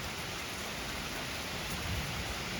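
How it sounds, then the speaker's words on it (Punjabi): Steady heavy rain pours down without a break on a rural Punjabi farmstead, a dense even hiss filling the whole stretch with no voices. "ਬਾਰਿਸ਼ ਇੱਕ ਰੁਕਣ ਦਾ ਨਾਂ ਨਹੀਂ ਲੈਂਦੀ।"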